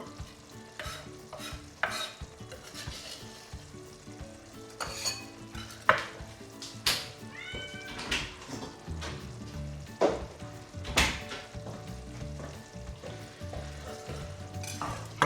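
Garlic, butter and chives cooking in a pan with a soft, continuous sizzle, punctuated by repeated utensil taps and scrapes of stirring at close range.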